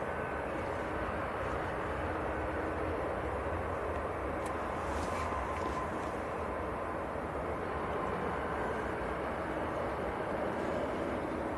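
A Saudi airliner taxis out at Manchester Airport, its jet engines giving a steady, broad roar that holds without a break throughout, fairly close and loud, with no voices over it.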